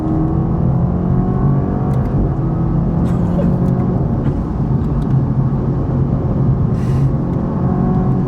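A Toyota Supra 2.0 four-cylinder accelerating at half throttle in third gear from roughly 45 mph, a loud, steady, close engine drone with a rising whir that holds throughout.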